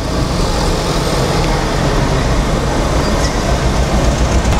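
A car from a scrapyard lot with a dead engine, pedal floored at full throttle: a loud, steady, unbroken roar with rumbling low end, close and constant throughout, with no talk.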